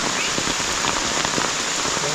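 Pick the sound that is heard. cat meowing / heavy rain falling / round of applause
heavy rain falling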